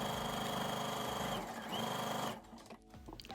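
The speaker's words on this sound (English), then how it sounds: "Sew this together using a 5/8 inch seam allowance." Sewing machine stitching a 5/8 inch seam on a flower-print market tote bag, running loud and steady with rapid needle rhythm for about two seconds, then stopping into quieter handling noise.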